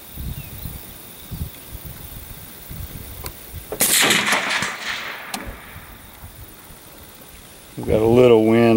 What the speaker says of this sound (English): I'm gonna shoot the guy on the right.